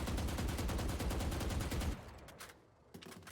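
Rapid automatic gunfire sprayed in a Valorant match: a fast, even burst of loud shots for about two seconds, then silence broken by one more faint shot or impact.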